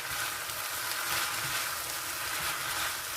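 Beef chop suey stir-fried in a hot wok, a loud continuous sizzle with the scrape and toss of a spatula mixing the food, close up and without talk.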